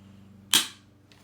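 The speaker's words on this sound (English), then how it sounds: "We'll go ahead and test the GFCI." A GFCI outlet's test button trips with a single sharp snap, close and moderately loud, over a faint steady electrical hum in a quiet room.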